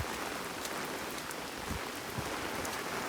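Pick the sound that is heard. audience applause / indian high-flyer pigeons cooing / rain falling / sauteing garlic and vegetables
rain falling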